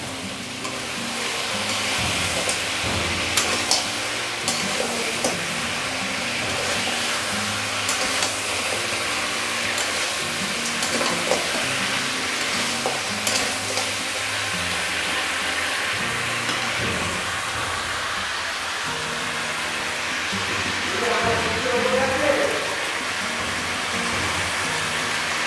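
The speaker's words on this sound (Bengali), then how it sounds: "এবার আমি এর মধ্যে ভেজে রাখা মাছের মাথাগুলো দিয়ে দেবো। দিয়ে আবারও 1 মিনিট মতন ভালো করে নাড়িয়ে নেব।" Fried Katla fish heads stirred in a pan of tomato gravy give a steady, close sizzle with soft scraping and clatter from the spoon throughout, and no voices.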